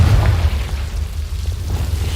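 Confringo blast spell going off in a Hogwarts video game: a loud deep boom at the start that rumbles and settles into a low sustained roar, with no voice over it.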